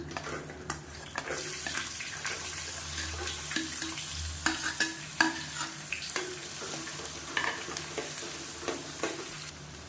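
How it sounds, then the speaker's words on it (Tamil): Curry leaves, spices, small onions and garlic cloves frying in oil for a fish kuzhambu, crackling and sizzling continuously with scattered pops and scraping stirs, close by and without talk. "இப்போ இது எல்லாமே நல்லா பொரிய ஆரம்பிக்குது"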